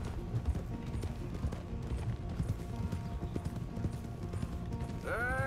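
Horse hooves clip-clop steadily in Red Dead Redemption 2 after an expensive horse purchase in Rhodes, a soft continuous trotting rhythm under ambient game sound, with a brief whistling or neigh-like rising tone at the very end.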